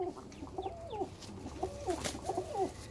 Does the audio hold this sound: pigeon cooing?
yes